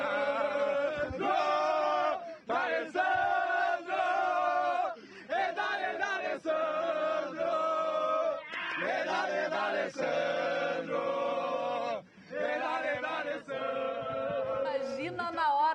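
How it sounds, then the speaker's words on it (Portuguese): Internacional football fans chanting and singing in unison for D'Alessandro outside the Beira-Rio stadium before a match, a loud, sustained melodic crowd song with rhythmic phrases and brief pauses between lines. "Vamos ouvir a torcida aqui cantando pro D'Alessandro"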